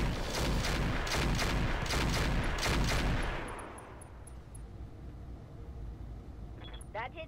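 Rapid volleys of heavy mech weapons fire in the Roguetech BattleTech mod game, a loud dense burst of repeated shots for about three seconds, then fading into a low rumble with faint electronic beeps.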